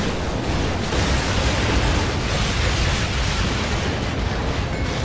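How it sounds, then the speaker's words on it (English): Airstrike explosion in the video game Renegade Ops, a dense, continuous roar of booming blasts and rumble filling the whole stretch at steady high loudness. "Yo, tank, airstrike!"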